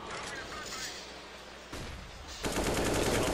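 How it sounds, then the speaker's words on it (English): AK rifle gunfire in Counter-Strike during a professional esports match, with bursts of rapid shots running under a caster's voice and heavier firing closing the clip. "He's going to use every bullet of that AK."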